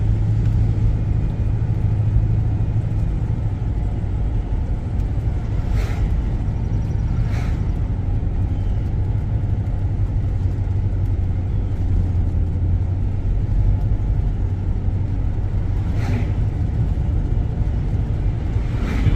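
Steady low engine rumble and road noise from a car cruising residential streets of East Cobb, Georgia, continuous and even inside the cabin with no talking.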